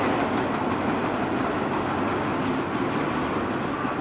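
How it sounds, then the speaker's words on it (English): Norfolk Southern 206, a freight train from Chicago's 63rd Street Yard bound for Buffalo, rumbles past up close with a steady, loud roar and rolling rail noise, alone, no voices. "On that train is Norfolk Southern 206."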